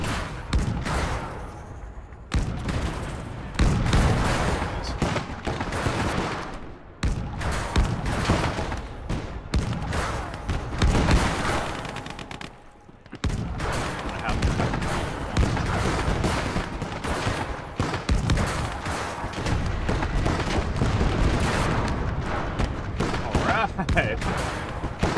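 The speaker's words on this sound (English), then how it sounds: "It's actually crazy how many things are shooting this at once." Gunfire and artillery fire from many weapons converge on a KV-1 tank in the WWII strategy game Gates of Hell: Ostfront, Finland campaign, making a loud, chaotic, near-continuous barrage of cracks and booms with brief lulls while someone talks over it.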